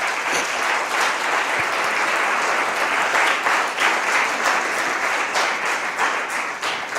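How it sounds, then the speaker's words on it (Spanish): A church congregation applauds loudly, a thick, sustained roar of clapping from many hands that holds steady for several seconds with no voice on top. "Dele un aplauso gigante a Dios"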